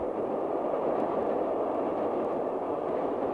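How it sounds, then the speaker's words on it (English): LNER 4468 Mallard steam locomotive running on a steam trip from York toward the East Coast, a steady, loud rumbling roar of the moving train with no breaks and faint rail clatter throughout. "Mallard is on one of its favourite steam runs, heading from York towards the East Coast and the sea"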